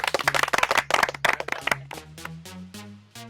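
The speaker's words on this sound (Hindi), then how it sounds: "बजाओ ताली। ठोको ताली आना सीधा, ठोको ताली।" A crowd claps hands at a village political rally in a Haryanvi film scene: a burst of brisk, overlapping claps that gives way to tonal music after about two seconds.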